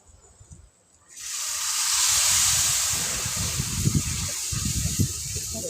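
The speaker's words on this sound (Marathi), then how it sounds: "आता ही भाजी टाकून घेते मी" Spinach greens drop into a hot pan over a wood-fired stove and at once burst into loud, steady sizzling that hisses on for several seconds, with faint clatter beneath.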